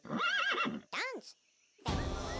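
A horse neighs in the video game Headbangers: Rhythm Royale. A loud, wavering whinny comes first, then a shorter rising-and-falling call, a brief silence, and a burst of noisy game sound.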